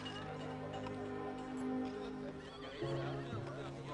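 Horses whinny and neigh near a horse-drawn cart while people talk over them, with faint hoof clip-clop mixed into the background.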